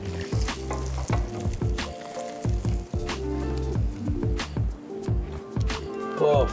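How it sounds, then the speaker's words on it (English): Paneer frying in a pan with cardamom and cinnamon gives a steady crackling sizzle, with repeated stirring scrapes and soft thuds in an uneven rhythm throughout, close and moderately quiet. "we are literally frying our paneer along with our elaichi and our cinnamon"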